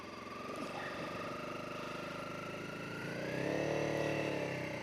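A motorcycle engine droning steadily during a ride on a foggy evening, a continuous mid-level hum with a faint rising pitch and slight swell near the end, no talking.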